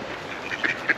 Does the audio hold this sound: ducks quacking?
yes